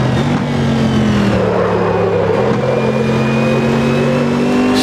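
A car engine in the Assetto Corsa racing game holds a steady, loud drone, its pitch dipping slightly and then climbing again as it revs, with no talking over it.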